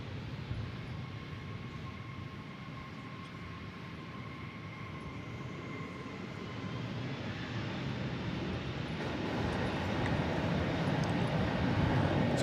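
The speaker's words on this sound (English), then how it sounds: "So here it is, arriving after 11 hours and 12 minutes from its origination point at Haneda Airport in Tokyo." An airliner arriving at DFW Airport after a long flight from Tokyo Haneda gives a distant, steady engine roar that slowly swells louder over several seconds, with faint tonal whine above the rumble.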